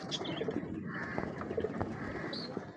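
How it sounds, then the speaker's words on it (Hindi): An Imam Din pigeon coos close by, soft repeated throaty calls with a few faint chirps over light background noise. "बहुत ये खालस मामदीन कबूतर है, बहुत ही मजबूत आँखें"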